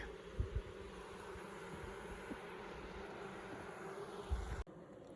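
A steady, dense insect drone of many honey bees buzzing close by at a hive being split, continuous throughout, with a few soft thumps and an abrupt cut near the end.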